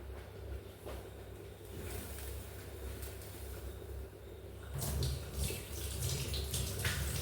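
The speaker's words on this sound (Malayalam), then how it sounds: "ഞാനൊന്ന് കൈ കഴുകട്ടെ" Running tap water splashes as hands are washed in a home kitchen during cooking, a quiet steady stream that grows louder and fuller partway through.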